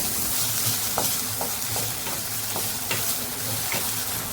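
Frozen peas are stirred into vermicelli upma in a hot pan, a dense continuous sizzle overlaid with repeated soft scraping strokes of a spoon, close and steady with no voices.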